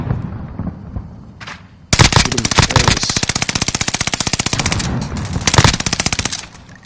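Gunfire in the video game Warzone: a loud, fast sustained automatic burst of rapid shots that stops abruptly, then another brief burst, over low game ambience.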